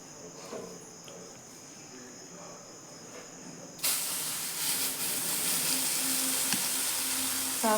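Batter poured into hot oil in an iron kadhai, a quiet room tone giving way abruptly to a loud, sustained hissing sizzle with faint crackles.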